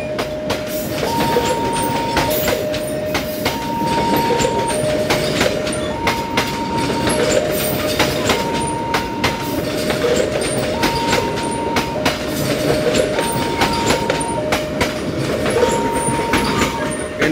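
A passenger train rumbles past loudly at a level crossing with rhythmic clickety-clack from the wheels and a repeating two-note tone sounding over the steady roar.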